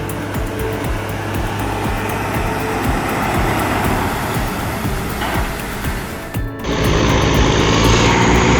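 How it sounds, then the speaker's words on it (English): Wood tractor truck engine in the forest, a loud steady engine drone with a low hum that briefly dips before the engine surges back even louder and holds. "The engine roars, steam rising from the hot engine"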